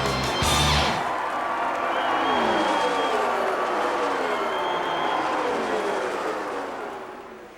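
Large crowd at the Indianapolis 500 rising and cheering, a dense sustained roar of voices and whoops near the finish, with a brief burst of engine noise at the start.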